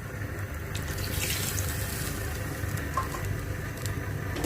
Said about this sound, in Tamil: இன்னும் ஒரு 1/2 கிளாஸ் தண்ணி ஊற்றிக்கிறோம்.